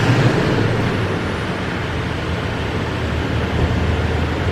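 A steady, loud engine rumble drones on without a break, a 2020 Toyota Tacoma pickup with a K&N cold air intake idling close by outside, with no voices over it.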